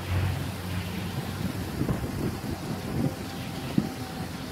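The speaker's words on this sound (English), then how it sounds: "Here is the beautiful Fort Myers Beach." Wind buffeting a microphone on Fort Myers Beach, with a steady low rumble and broad hiss of gusts and surf, continuous and fairly even with no voices.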